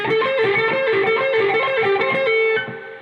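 Distorted electric guitar plays the riff at full tempo, a quick run of picked notes ending on a held tone that fades, loud and unaccompanied.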